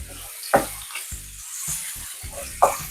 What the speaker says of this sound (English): And then you want to go ahead and add your garlic.